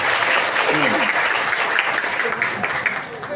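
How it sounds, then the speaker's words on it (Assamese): Audience applause after a stage performance of devotional Assamese song, a dense, steady clapping from a crowd that holds throughout and fades slightly at the end. "আপোনালোকৰ বহুমূলীয়া হাত চাপৰি অদাই আমাক সমৰ্থন কৰিলে আমি নথৈ আনন্দিত হ'ম"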